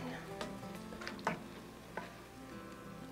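Venison with chili powder fries in a pan, a soft, steady sizzle with the light scrape and clack of a utensil stirring now and then, heard close but faint.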